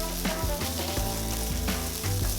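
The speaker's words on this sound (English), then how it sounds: "The kimchi is starting to brown and it's smelling amazing" Kimchi browning in a hot pan for kimchi fried rice, giving a steady sizzle and crackle with a few stirring clatters, close and fairly loud, no talk.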